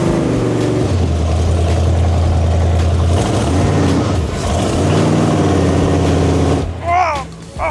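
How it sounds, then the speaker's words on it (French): A mini model boat engine drones loudly and steadily with a buzzing, revving tone, shifting pitch as the throttle changes, then cuts out near the end while a voice speaks. "Il est gros lui le moteur là"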